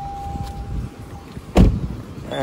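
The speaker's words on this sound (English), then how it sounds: "from here you can open the engine bay of the car" Interior hood release of a 2022 Toyota Camry Hybrid pulled, a single sharp thunk near the middle of an otherwise quiet cabin with faint background hum.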